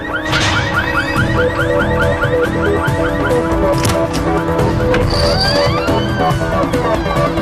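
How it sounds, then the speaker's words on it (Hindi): A car alarm sounds from a green Volkswagen, its repeating warbling and whooping tones cycling steadily over a dense, busy backdrop of street noise and music. "वो गाड़ी का अलार्म बज रहा है।"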